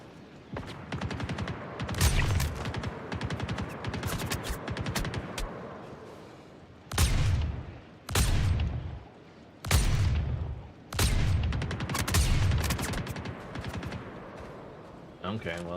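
Shotgun blasts and automatic weapon fire in the space game Star Citizen, heavy bursts repeating in clusters of loud shots, with a voice talking between and over them.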